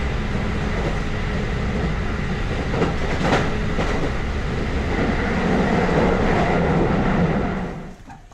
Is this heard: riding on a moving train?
yes